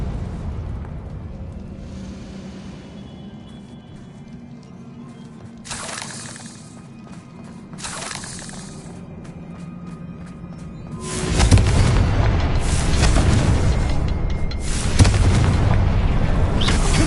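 Blasting-spell explosions from the Hogwarts Legacy video game: a few sharp booming bursts early on, then a loud, sustained run of crackling, rumbling blasts filling the final seconds, with no talking.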